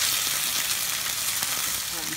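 Pork pieces for Japanese ginger pork sizzle steadily in a hot pan as they crisp, a dense, even crackle that carries on without a break and with no talking over it.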